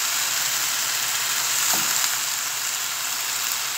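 Chicken strips and capsicum strips sizzling in a pan, a steady close frying hiss with a soft stirring scrape partway through.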